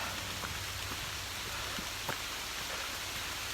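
Steady rain pours down in a dense, even hiss, with a few louder drops pattering close by against a constant wash of falling water.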